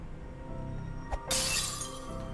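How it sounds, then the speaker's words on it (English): Glass shatters once in a loud, sharp crash with a bright tinkling tail, preceded by a brief thump, a breaking sound effect in the Mahoyo visual novel. "It's made of plastic, but it just made like a glass breaking sound effect."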